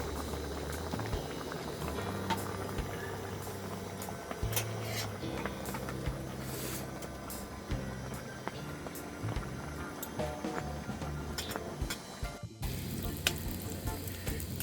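A pot of spicy Korean fish stew (maeuntang) bubbling at a rainy campsite by Saetbyeol Beach on Anmyeondo, a continuous close simmer of popping bubbles with faint background noise and a brief dropout near the end.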